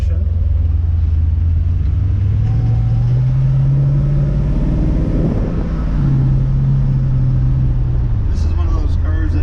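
A 1934 Chevrolet Cabriolet with a 350 engine and three-speed automatic transmission rumbles steadily on a test drive, a low droning hum that rises and eases slightly, with a voice talking over it.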